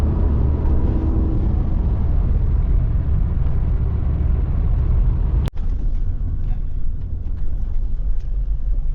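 A car drives along a road, giving a steady loud rumble of engine and tyre noise throughout, broken by one brief bump midway.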